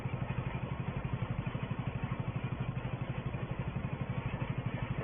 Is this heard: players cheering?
no